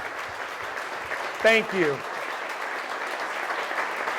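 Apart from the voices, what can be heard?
applause honoring military veterans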